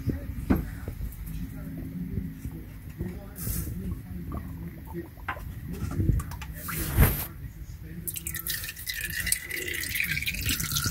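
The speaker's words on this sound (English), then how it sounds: "Make sure it's dripping into your oil pan." Engine oil drips into an oil pan beneath a Honda Pilot during an oil change, with irregular splashing drips close by and occasional clatter from handling the pan.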